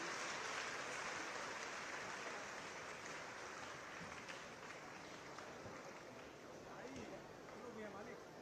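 A large crowd at a university book festival opening in Gorakhpur applauds the arriving chief minister, heard as a faint, distant, continuous wash of clapping with crowd murmur and voices mixed in.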